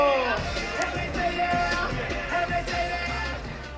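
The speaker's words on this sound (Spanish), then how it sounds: "¡Un fuerte aplauso!" Crowd at La Jaula Movistar street basketball court in Zaragoza giving applause and cheers, a dense continuous roar of clapping and voices with music and loud chatter mixed in.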